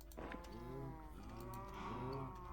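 A cow moos in a Minecraft-style video game, two drawn-out lowing calls heard clearly over a faint steady background hum.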